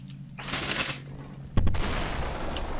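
Gunshots in the video game Superhot, a burst of loud overlapping shots followed by a sharp blast and a lingering rumbling tail.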